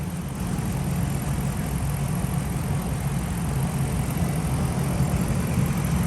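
A 2013 Dodge Ram pickup's 5.7 Hemi V8 idles steadily at close range, a deep low rumble holding constant throughout with no revving.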